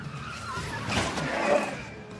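IndyCar race cars skidding in a multi-car crash at Iowa Speedway, a swelling rush of engine and tire squeal from a distance, building to a peak before easing off, without talk.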